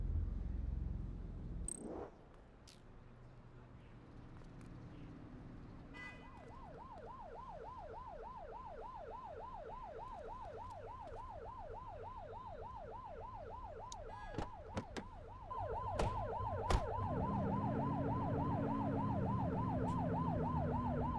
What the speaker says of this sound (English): Turn that siren off. We don't need it on right now.